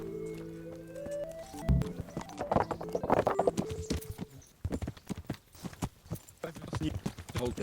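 Horse hooves clip-clop steadily in the medieval game Kingdom Come: Deliverance, a brisk, close rhythm of hoofbeats that starts after a short stretch of speech and continues to the end.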